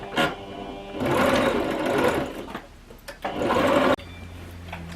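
A sewing machine runs stitching a seam in a skirt made from old jeans, with two sustained bursts of close, steady mechanical whirring split by a brief pause, and short clicks where back stitching happens.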